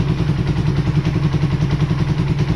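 A Suzuki Raider 150Fi motorcycle engine with a remapped fuel injection runs with a loud, steady, close-up mechanical chugging and clatter, a fast even pulse throughout with no voices.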